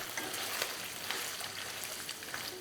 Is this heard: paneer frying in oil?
yes